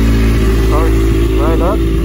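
Kawasaki ZX6R sport motorcycle engine starting with the clutch held, then settling into a steady, loud, close idle hum, with a few brief rising revs.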